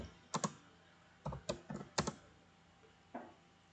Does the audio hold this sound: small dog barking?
no